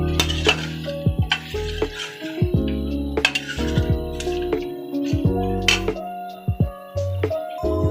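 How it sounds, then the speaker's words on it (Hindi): A metal spoon stirs Peshawari namkeen gosht in a pot, with repeated close clinks and scrapes against the pot in an irregular rhythm, over low kitchen hum. "अभी हम इसे अच्छी तरीके से हिला लेंगे।"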